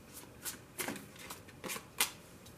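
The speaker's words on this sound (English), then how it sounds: "so I'm only going to shuffle it for a moment." A deck of tarot cards is shuffled by hand for a moment, giving several soft, quick riffling bursts at close range in a quiet room.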